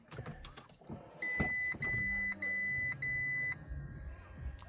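Four evenly spaced electronic coolant warning beeps from an Audi S3 dashboard, on a car that won't start, clear and close, with soft rustling and movement around them.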